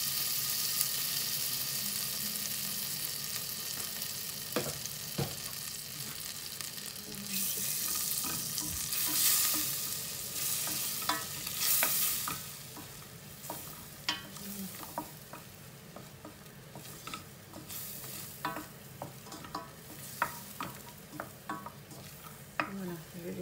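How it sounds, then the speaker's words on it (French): Flour stirred as it cooks in a pan for a tomato and roasted pepper velouté, a steady low sizzle under repeated scraping strokes and light clicks of the spoon, with no talking. "je vais laisser la farine cuire un petit peu"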